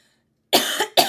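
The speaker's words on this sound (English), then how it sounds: "All that sugar got me having a little cough." A single close cough, a harsh burst with a brief second catch, following a moment of silence.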